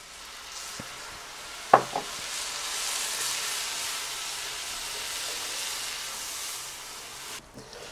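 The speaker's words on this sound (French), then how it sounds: "Maintenant, j'ajoute une tasse de café chaud." Hot coffee poured into a pot of chili con carne cooking on a barbecue brings a steady loud sizzle and hiss, with a brief clank and a quick stir near the start.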